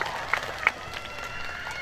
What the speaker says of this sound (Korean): 제작진분들께 박수 한번 주시면 감사하겠습니다